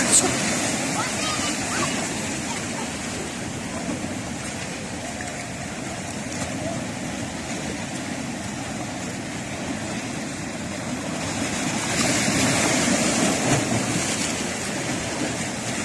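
Sea waves washing onto a beach where people swim, a constant surf wash with wind noise, swelling louder toward the end, while someone talks over it.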